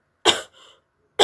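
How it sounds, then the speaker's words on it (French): A woman coughs two loud, close, raspy times with a short pause between them. A quieter, breathy rasp trails after the first cough. "Je suis désolée, je vais beaucoup tousser."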